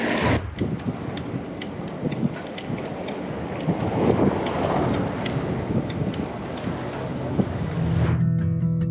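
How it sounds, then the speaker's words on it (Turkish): Strong, hot wind at Hamam Lake in İğneada, Turkey, buffets the microphone in continuous gusty roars, with broadband rushing noise throughout and no talking. "rüzgar fön makinesi gibi esiyor şu an"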